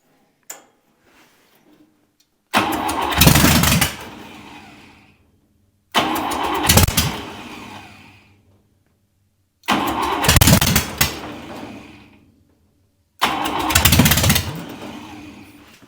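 Buick Nailhead V8 on a rail dragster firing for the first time, four loud separate cranking bursts that catch and rev briefly before dying, each a couple of seconds long with silent gaps between.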